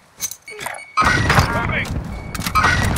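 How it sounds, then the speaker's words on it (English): A frag grenade blasts in Warzone Caldera gameplay: a sudden loud boom after a short quiet lead-in, followed by rumbling debris and game sounds, with a voice speaking over the mix. "Sending frag."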